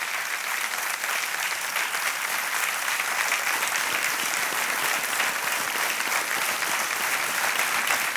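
Sustained applause from the studio audience of Kaun Banega Crorepati Season 10 for a female contestant who has just won 3,20,000 rupees, a loud, even roar of many hands clapping for about eight seconds, with no voices over it.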